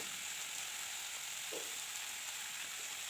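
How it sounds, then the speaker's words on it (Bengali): Taro roots frying in a pan after salt and turmeric are added give a steady, continuous sizzle throughout, with a brief soft scrape from stirring midway. "নুন আর হলুদ গুঁড়োটা দিয়ে এবার নাড়াচাড়া করে একটু ভাজা করে নেব"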